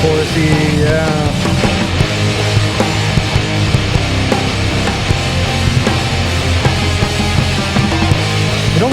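A played music track reaches a melodic break with a chorus-like, slightly live-sounding texture, dense tones sustained steadily at full loudness for the whole stretch, with no talking.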